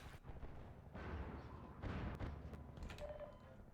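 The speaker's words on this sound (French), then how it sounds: "il y a un hélicoptère qui balance des barils explosifs" Deep booming explosions from barrels dropped by a helicopter in the video game Half-Life 2, with two heavy blasts rumbling in succession amid game noise, fairly faint overall.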